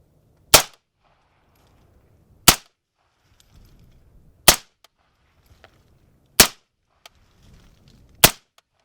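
Five suppressed gunshots ring out one at a time, about two seconds apart, each a sharp, close crack with a short decay and quiet shuffling between shots.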